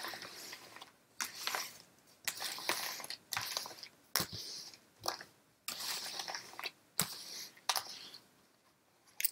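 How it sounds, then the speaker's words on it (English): Tarot cards being spread and shuffled on a surface, giving a run of crisp, close rustling and slapping bursts in uneven rhythm with short pauses between them. "mix the cards this way."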